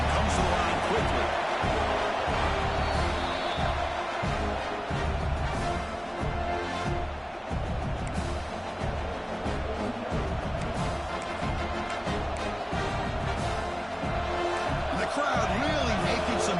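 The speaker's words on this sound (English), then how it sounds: "Crowd really making some noise now, trying to help out this defense to get this stop near the goal line." Stadium crowd at a college football game against Notre Dame roars steadily to back the home defense near the goal line, a loud continuous wall of cheering with a play-by-play announcer talking over it throughout.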